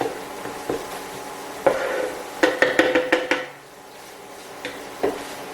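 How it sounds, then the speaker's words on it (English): Cheesesteak meat being chopped on a hot cooking surface, a run of sharp metallic scrapes and taps clustered in quick bursts over a faint background sizzle, fairly close and with no talking. "I'm just going to keep chopping. Make sure it's finely chopped."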